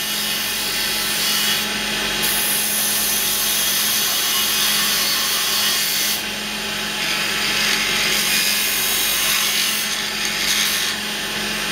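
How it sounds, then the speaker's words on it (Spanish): A wood lathe spins a carved wooden mallet while a tool is pressed against it to burn in friction lines, giving a steady, loud rubbing and whirring hiss that runs unbroken for the whole stretch, with no talking. "Luego vamos a marcar unas líneas de fricción para darle un poco,"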